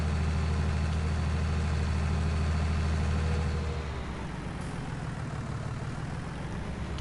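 Fendt tractor engine in Farming Simulator 19, a loud, steady low diesel drone that eases to a quieter idle-like rumble partway through, with no talking over it.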